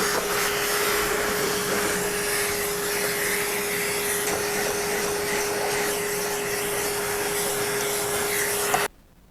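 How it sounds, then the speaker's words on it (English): A vacuum cleaner roars steadily and loudly, with a constant motor whine, cleaning a dirty extractor fan and running continuously for several seconds before cutting off abruptly at the end. "I'm going to vacuum it first because it's so gross."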